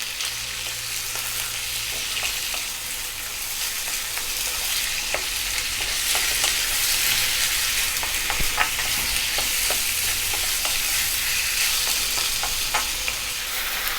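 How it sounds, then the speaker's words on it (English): Garlic, ginger and sliced onion stir-fry over high heat in a pan, giving a steady loud sizzle broken by frequent sharp scrapes and clinks of the utensil, with no voices. "So we're on quite a high heat and we're going to stir this around for about 4 to 5"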